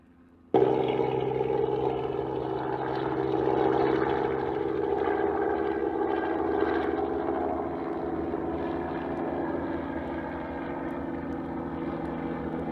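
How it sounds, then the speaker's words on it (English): Roaring wood fire in an open-air primitive pottery firing, starting abruptly and then holding as a steady, dense rumble with no talk. "we got the fire going well underway right now"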